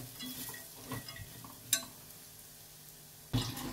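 A spoon stirring a spice mix of coriander, cumin, red chilli, turmeric and chicken masala in a pan for Marathi sandagyachi curry, with quiet scraping and sizzling and a couple of sharp clinks against the pan.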